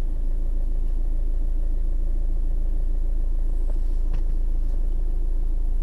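HDI diesel car engine with a Bosch EDC15C2 ECU idling after starting, a steady low rumble with a constant mechanical hum, close and continuous, with no talking.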